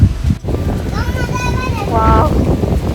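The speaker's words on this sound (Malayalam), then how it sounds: "ഭയങ്കര കാറ്റ്, നല്ല തണുത്ത കാറ്റാണ് വരുന്നത്" Strong, cold wind buffets the microphone outdoors beside hillside resort cottages in Munnar, a rough low rumble that persists throughout as a person talks over it.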